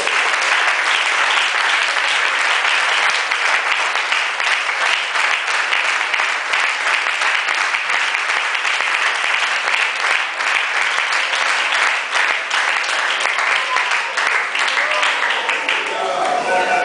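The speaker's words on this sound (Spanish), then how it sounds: "Un aplauso a Jesucristo." A church congregation claps steadily and loudly throughout, a continuous wash of many hands without pause.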